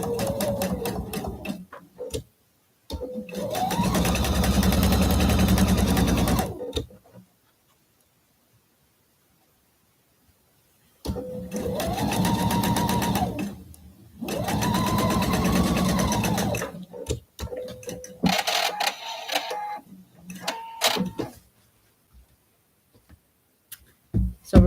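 A sewing machine stitching a 1/4 inch seam on a quilt block, running in several steady, humming bursts of a few seconds each, close and loud, separated by quiet pauses.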